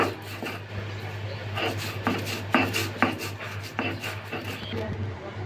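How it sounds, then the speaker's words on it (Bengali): Fried dried fish is ground by hand on a stone grinding slab, making rough rubbing and scraping strokes in an irregular rhythm, close up, over a low steady hum. "এখন শুটকিটা বেটে নেব।"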